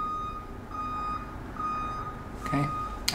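A reversing truck sounds its backup alarm, evenly spaced electronic beeps repeating at a steady pace and moderate distance, followed by a short clattering knock at the end.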